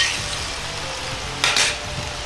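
Soup bubbling gently in a tilted frying pan on low heat while a starch slurry is stirred in, a steady soft sizzle with a brief brighter splash of scraping and bubbling midway.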